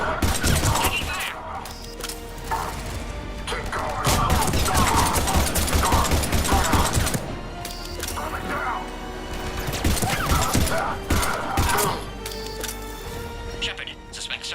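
Gunfire during a Mass Effect 3 firefight against Cerberus, dense bursts of shots and cracking impacts mixed with game dialogue shouting over a rumbling combat soundscape.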